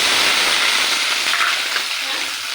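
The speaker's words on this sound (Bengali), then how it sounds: "সিদ্ধ ছাড়াই এমনি একটু ভেজে নেবো ম্যাগিটা" Maggi noodles frying dry in a pan without boiling, a steady broadband crackle and hiss that stays close and loud throughout, easing slightly toward the end.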